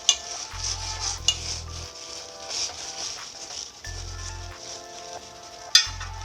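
Dried red chillies boil in a pan of water for a Schezwan paneer sauce, giving a steady bubbling hiss throughout with a few sharp utensil clinks and brief low rumbling bursts, no voices.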